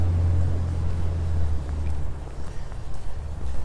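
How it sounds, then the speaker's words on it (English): Low, steady rumble of road traffic in the distance, continuous and fairly loud, with no voices. "You might hear some traffic in the background."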